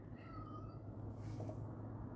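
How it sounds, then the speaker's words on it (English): House cat meowing faintly, a single drawn-out cry set back in a room over a steady low hum, with no talk over it. "What the hell with my cat"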